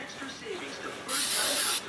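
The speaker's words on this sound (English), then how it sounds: "I spray a little Rems oil" A spray can of Rem Oil lubricant releases one steady hiss lasting under a second, close up, while it is sprayed onto holster parts. It follows a moment of near-silence.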